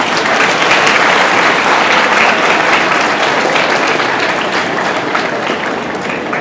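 Audience applause at a seminar on culture and conduct, a dense steady clapping from a large crowd that lasts the whole stretch and eases off slightly near the end, with no voices over it.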